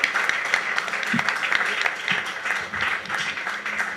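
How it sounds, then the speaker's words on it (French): Audience applause for Rav Jean-Baptiste at a café philo book discussion in a French-speaking setting, a steady sustained patter of many hands clapping close to the listener for the whole stretch. "Sous vos applaudissements, monsieur Rav Jean-Baptiste."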